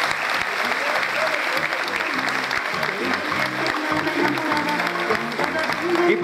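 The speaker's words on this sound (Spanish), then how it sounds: "hacer más fuertes los aplausos" Loud crowd applause at a football club fans' day celebration for Tigre, dense continuous clapping mixed with cheering and a low murmur of the crowd throughout.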